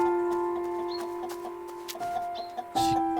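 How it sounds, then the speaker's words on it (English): Chickens cluck in the snowy world of the video game Gerda: A Flame in Winter, short clucks over steady game music and ambience, with a louder burst near the end. "The chickens have got him surrounded."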